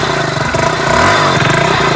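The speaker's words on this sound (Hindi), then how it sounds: "अभी एक्सीलेटर लेते हैं," BS6 motorcycle engine being revved with the throttle after a current fault fix, a close, loud steady run with a brief rising rev in the middle.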